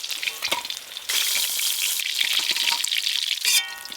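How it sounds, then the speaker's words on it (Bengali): Large potato chunks frying in hot oil in a pan for a raw mango and rohu fish curry, a loud steady sizzle that surges and intensifies midway, with occasional clatter. "এই যে আলুগুলো এরকম বড় বড় করে কাটা হয়েছে, এইগুলো ভালো করে ভেজে নেব"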